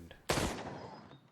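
A single loud handgun shot in a video game, a sharp blast with a long decaying tail, preceded by a faint low murmur.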